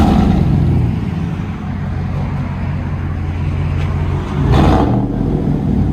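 A 2014 Chevy Silverado 5.3L V8 with straight-pipe dual exhaust and 5-inch angle-cut tips rumbles loudly and steadily nearby, swelling briefly in a rev near the end.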